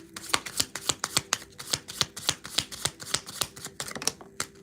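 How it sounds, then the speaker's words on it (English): A deck of tarot cards shuffled by hand, a quick run of about twenty crisp, evenly spaced flicks close up. "Every time I shuffle"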